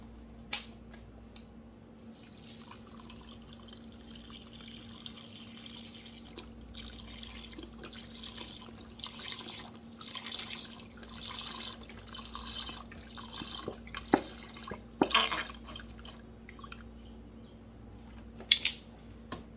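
Vegetable broth poured into a pot of lentils for a lentil stew, splashing and trickling in uneven bursts, fairly faint, with a few sharper drips and clinks.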